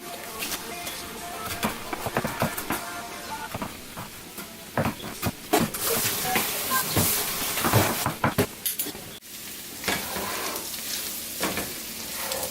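Chicken gizzards fry in oil in a pan with a dense, crackling sizzle and scattered sharp pops and stirring clatter, moderately close and with no talk.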